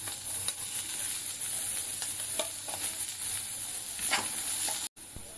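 Chopped green chilies, onion, carrot, capsicum and cabbage stir-fry in a hot pan for manchow soup, a steady close sizzle with occasional scrapes and taps of the spatula.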